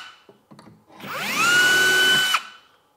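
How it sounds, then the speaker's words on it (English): A power drill whirs up to a high steady whine for about a second and a half, then stops abruptly, after a few brief clicks, while drilling a cabinet. "we take our drill and the bit"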